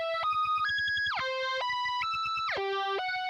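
A short synth melody is processed with Soundtoys Little AlterBoy in dual mono, its stepped tones bright and pitch-shifted, jumping between notes over a steady pulsing beat.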